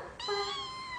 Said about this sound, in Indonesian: Ini adalah kucing.